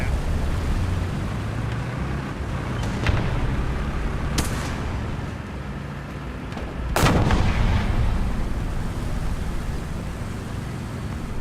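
Artillery and gunfire in the video game War Thunder: a steady rumbling battlefield bed punctuated by several sharp, loud cannon blasts, the strongest near the middle and late in the sequence, with no talking.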